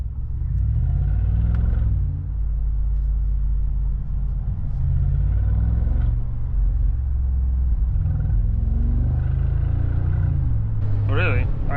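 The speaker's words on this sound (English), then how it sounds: "if you're accelerating slowly, you get this really nice rumble" Deep, continuous engine rumble from a 2025 Mercedes-AMG G63 SUV accelerating slowly, heard up close with gentle rises in pitch and a brief higher whine at the end; a voice talks over it.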